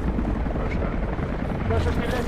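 A helicopter takes off in the video game Rise of the Tomb Raider, its rotor drone thrumming steadily and close while a voice speaks over it.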